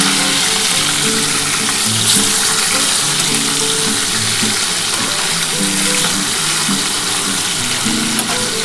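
Pomfret fish pieces frying in hot oil in a pan on a three-burner stove, giving a steady, loud, continuous sizzle with a dense crackling texture throughout and no voice over it.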